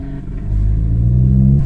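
Audi RS3 engine revving up loudly and close by, a deep rumbling roar that builds over under two seconds and holds steady.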